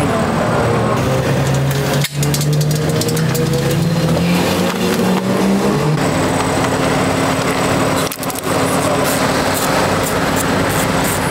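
BMW M4 engine at full throttle on the Grobnik race track, a loud continuous roar rising through the revs with gear shifts near two and six seconds, heard close up and steady throughout.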